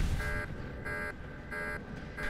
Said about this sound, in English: that alarm means they have done the first set of doors